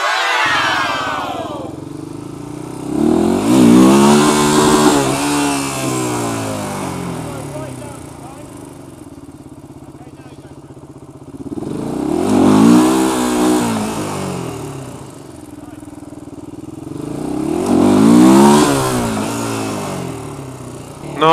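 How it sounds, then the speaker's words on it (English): Motorcycle engine revving hard during a wheelie, rising and falling in three long surges a few seconds apart, loud and close, with a faint background of voices. "Finally, a f***ing wheelie."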